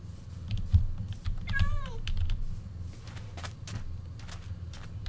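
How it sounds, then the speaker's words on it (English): Cat in the Minecraft video game gives a single short, rising-then-falling meow amid rapid keyboard typing and clicks, with low background hum throughout. "Hey, kitty, where you at?"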